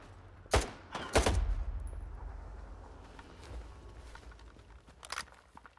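Gunfire in the S.T.A.L.K.E.R. 2 video game: two sharp, loud shots in quick succession, each trailing into a low rumbling decay, then a fainter single shot near the end.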